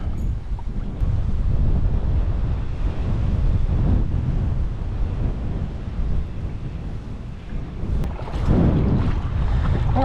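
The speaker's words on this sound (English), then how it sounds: "here comes that wind" Strong wind gusts roar across a lake during a fall bass fishing trip, buffeting the microphone with loud rumbling bursts and water lapping beneath, steady throughout with a heavier gust near the end.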